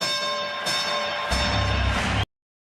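A fight bell rings out in Dune Awakening at the start of a bout, two loud bright strikes with sustained ringing overtones that cut off abruptly.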